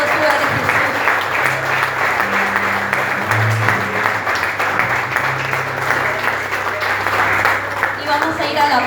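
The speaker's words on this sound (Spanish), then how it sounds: "aplaudir sobre tu cabeza en señal de victoria" A church congregation applauds overhead as a sign of victory, continuous dense clapping filling the room with voices and faint musical tones underneath.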